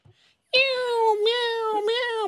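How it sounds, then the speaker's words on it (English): A cat meows in one long, drawn-out, clear call that wavers in pitch and rises again twice, close and prominent after a brief quiet start. "That's a cat."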